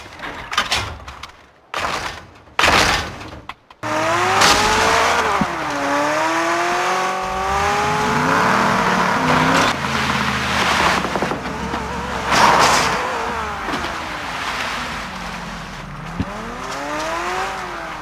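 A few thumps and bangs open before a car engine takes over, droning and revving with rising and falling pitch sweeps, loud and fairly close, lasting to the end.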